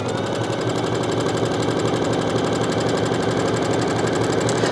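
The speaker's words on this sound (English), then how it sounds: "all I have to do is just sew along the line of stitches" A domestic sewing machine runs steadily, stitching along a line of existing stitches on fabric to add definition, its needle chattering in a fast, even mechanical rhythm at close range with no talking.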